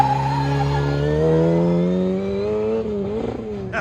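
Small-engined Mini with a 1.3 liter engine and 10-inch wheels racing at an autocross, a loud close engine note climbing steadily in pitch through the gears, then wavering and dropping near the end.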